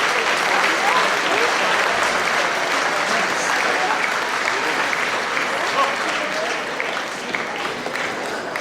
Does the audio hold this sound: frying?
no